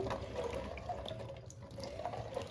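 Small amla gooseberries being washed in a basin of water, with soft steady sloshing and splashing close by and a few faint drips, no talking.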